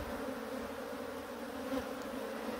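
A honey bee swarm settled in a hive hums with a steady, dense buzzing drone, close and continuous throughout, with no voices.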